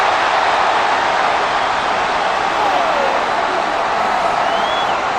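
A packed stadium crowd at an NFL divisional playoff, Buccaneers at Lions, roars in displeasure after a penalty flag, a dense, loud wall of booing and shouting that holds steady for the whole stretch.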